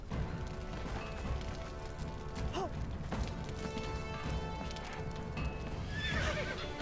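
A video game horse whinnies in a short rising-and-falling neigh, with clopping hoof steps and clatter around it, fairly close and clear, with no talk.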